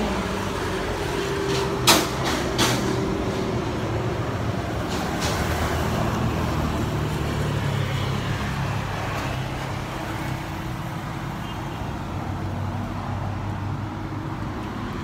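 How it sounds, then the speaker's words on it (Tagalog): Road traffic in Tagaytay with many vehicles, a steady broadband rumble of passing cars and buses, with a sharp knock-like transient early on and continuous engine noise throughout. "Umpisa naman ng maraming sasakyan guys."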